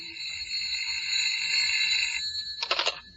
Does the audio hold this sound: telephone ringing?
yes